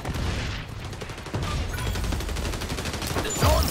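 Rapid gunfire in the shooter video game XDefiant, repeated bursts filling the clip at steady loudness, with a louder burst near the end and faint voice underneath.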